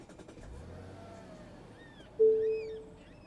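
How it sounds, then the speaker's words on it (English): Push-button start of a 2023 Mazda CX-60 from inside the cabin: a quiet interior, then a sudden short electric starter whir and the engine catching into a smooth, steady idle hum that gently settles. "So we'll get in and I'll start it up for you. Push button start, of course."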